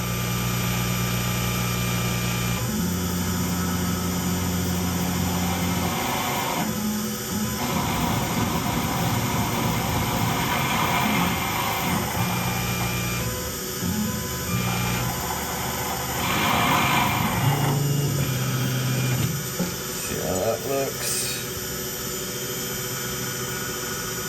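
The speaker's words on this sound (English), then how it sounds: "a little bit bigger center drill in there now" A Tormach CNC mill runs with a larger center drill, giving a steady, loud machine hum with tonal whine and intermittent cutting noise throughout, close and continuous without speech.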